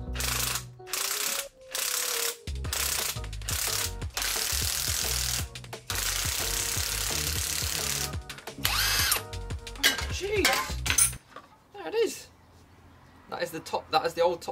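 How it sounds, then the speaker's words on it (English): A spring compressor is ratcheted tight on a Fiat Punto strut, giving bursts of clicking, grinding mechanical ratchet noise that stop and start, with a voice talking between them. "So we're gonna tighten that down, it's gonna compress the spring."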